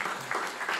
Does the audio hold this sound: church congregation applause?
yes